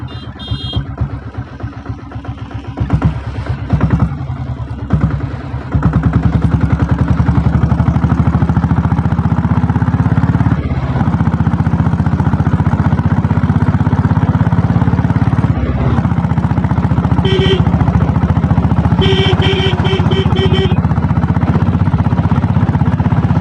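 A 7.5HP self-start diesel Royal Enfield Bullet motorcycle turns over and starts, then runs in a loud, steady, close thumping chug, with some brief higher beeps or tones toward the end.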